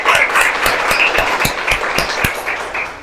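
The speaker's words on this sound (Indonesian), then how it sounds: "tepuk tangan untuk kita semua" Classroom students at SMP Negeri 5 Denpasar clap together in a brisk burst of applause, dense and close, with a few distinct sharp claps standing out before it tapers off.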